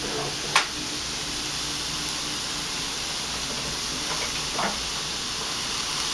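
Onion frying in a pan for sausage bread with fennel, giving a steady, even sizzle and hiss throughout, with a couple of faint clicks and no talking.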